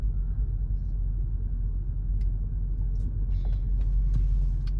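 A car rolls through road traffic, a steady low rumble of engine and road noise from inside with a few faint clicks and rattles, no talk.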